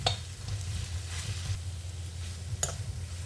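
Chili powder sautéing in a hot pan for a home-style ivy gourd gravy, a soft continuous sizzle with a few scraping stirs of the spoon.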